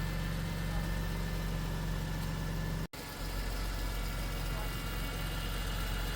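A BMW E46 M3 engine idles roughly with a slight misfire, giving a steady, close, low rumble that cuts out briefly partway through, then resumes unevenly.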